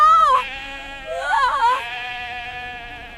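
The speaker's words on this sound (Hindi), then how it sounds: "हमारे पास अवासी नस्ल की भेड़ें मौजूद हैं, लेकिन बहुत कम तादाद में" Awassi sheep bleating loudly and close, two wavering calls separated by a short pause, followed by a steadier sustained bleat, with no other sounds around them.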